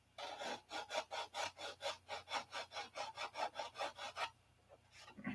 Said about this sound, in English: sanding sticks, is all they are.